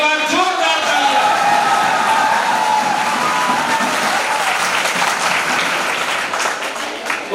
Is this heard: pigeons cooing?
no